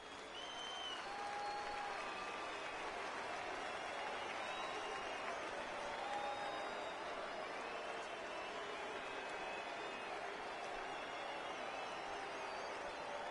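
A minor-league baseball crowd at a San Antonio Missions versus Oklahoma City Dodgers game applauds steadily in a distant wash of sound, with faint whistles and a broadcaster talking underneath.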